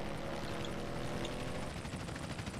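A helicopter in the video game GTA San Andreas multiplayer makes a continuous whirring rotor roar with a faint rhythmic pulse, steady and alone with no talk.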